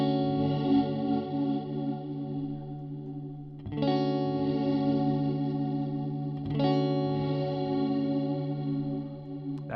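A sustained guitar chord runs through an Axe FX 3 modulated delay at full depth, restruck three times, each ringing note swirling and wavering with a chorus-like shimmer.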